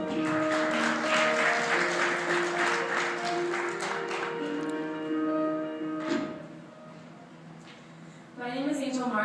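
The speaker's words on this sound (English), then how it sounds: "Give her a round of applause." Audience applause at a school athletic scholars event, a broad crowd clatter that swells loud for several seconds, thins out with tonal music or a voice over it, then returns briefly at the end.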